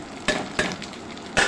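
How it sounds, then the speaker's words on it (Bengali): Fried potatoes and pointed gourd go into hot spices with dried chillies, producing three sharp bursts of sizzling and scraping clatter over a low background hiss, no voices. "এভাবে নাড়াচাড়া করে নেওয়ার পর দিয়ে দিচ্ছি ভেজে রাখা আলু আর পটল।"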